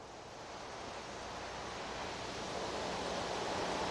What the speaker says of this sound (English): you only hear the shimmering of the wind just blowing through the tops of the trees